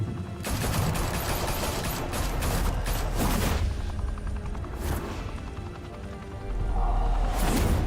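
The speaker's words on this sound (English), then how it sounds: "Open fire!" Sustained bursts of automatic gunfire and rapid shots rattle nonstop through a Batman shootout in Gotham, dense and loud, with a deep rumbling underlayer and a heavy crash near the end.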